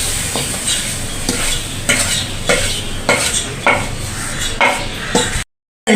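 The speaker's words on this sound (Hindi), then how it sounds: "मिक्स कर रहे हैं, सारी एक जैसी हो जाएगी।" Roasted semolina and dry fruits are stirred together in a pan with a brisk, repeated scraping rhythm, about two strokes a second, loud and close, ending in a moment of silence.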